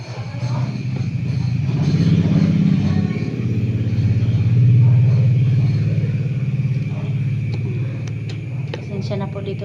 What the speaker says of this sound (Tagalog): dumadaan na motor-motor.